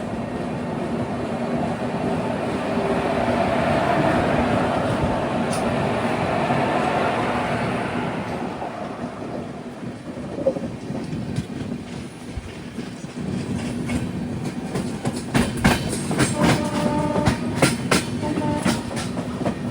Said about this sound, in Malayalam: അങ്ങനെ മുനിഗുഡ റെയിൽവേ സ്റ്റേഷനിൽ നിന്ന് ട്രെയിൻ എടുത്തു